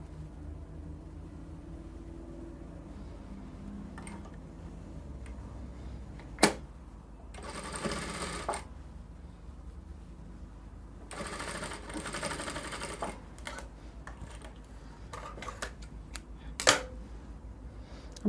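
A sewing machine stitches around a sleeve in several bursts of quiet rhythmic whirring, with pauses and occasional sharp clicks and handling noises between runs.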